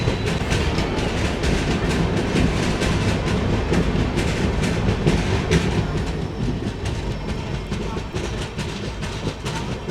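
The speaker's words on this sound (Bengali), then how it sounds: "দেখো একদিকে আমাদের ট্রেন ছুটছে" Alipurduar Tourist Express 15777 running on its tracks near a highway and tea gardens, with a steady loud rumble and rhythmic clickety-clack of wheels throughout, heard from on board.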